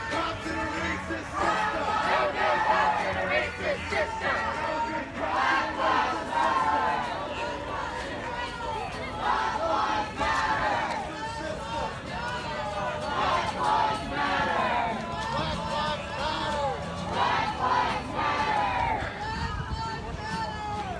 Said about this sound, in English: The crowd continues to chant "No good cops in a racist system," and you can hear "Black Lives Matter."